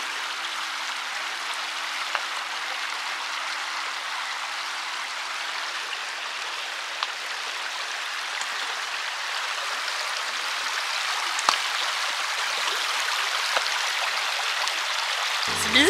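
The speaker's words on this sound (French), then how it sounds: "J'aime trop le bruit de l'eau." Flowing water like a fountain or stream along the French Atlantic coast, a continuous soft hiss with faint droplet splashes, steady and moderately close throughout.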